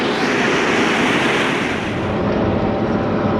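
Water rushes out through a busted pond dam in a loud, continuous roaring torrent, broad and steady with no pauses and no voices.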